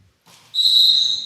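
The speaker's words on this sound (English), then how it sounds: "Whistle there." A referee's whistle at a junior varsity girls volleyball match gives one sharp, loud, sustained blast after a brief murmur of gym noise.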